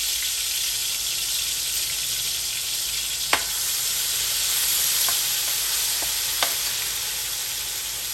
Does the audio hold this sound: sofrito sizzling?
yes